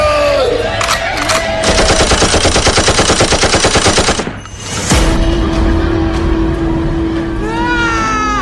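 Loud rapid machine-gun fire rattles continuously for several seconds during a Hindi stage dance performance, then cuts to a sustained tone with shouting and crowd voices after a brief dip.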